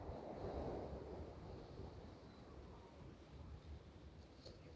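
Sea waves wash onto Chowpatty beach, a soft continuous surf rumble with wind noise, faint and distant, no voices.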